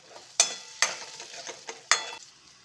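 Asafoetida and green chillies fry in a pan: a quiet sizzle broken by several sharp spatula knocks and scrapes against the metal, three of them loud, with no voices.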